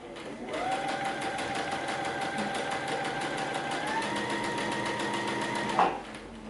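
Sewing machine stitching a canvas and leather tote bag, a fast steady mechanical whir with rapid needle ticks running continuously, then stopping abruptly near the end.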